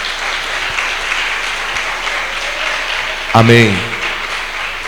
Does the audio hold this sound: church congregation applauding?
yes